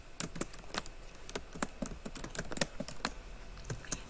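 Keys clatter on a computer keyboard in quick, irregular bursts of individual taps, close and fairly quiet, with no talking over them.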